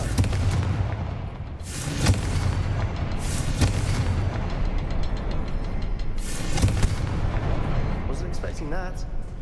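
Confringo fire-blast spell explosions in the Hogwarts Legacy video game, several booming blasts over a continuous dense game soundscape, with a brief spoken voice.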